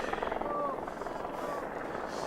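Helicopters fly over a night street protest in Montreal, giving a steady, rapid rotor chop that runs continuously and fairly loud throughout, blended with broad city and crowd noise.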